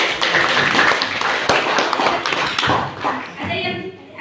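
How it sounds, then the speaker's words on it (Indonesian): Hand clapping in a classroom lesson, a run of brisk claps mixed with taps and thumps, close and fairly loud, with voices talking alongside. "saya tepuk tangan."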